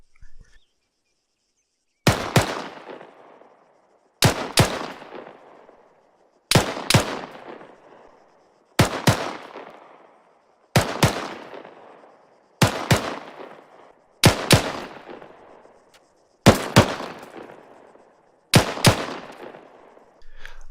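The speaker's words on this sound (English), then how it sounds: "A double tap consists of 2 shots fired in rapid succession at the same target." Rifle shots crack out in evenly spaced pairs, two rapid shots about every two seconds, each sharp and loud with a short echoing tail and silence between pairs.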